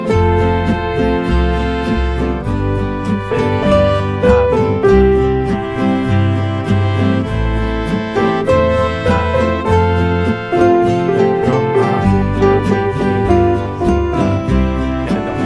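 A backing track plays loud and continuous, with a bouncy rhythm, strummed chords and a steady bass line and no voices.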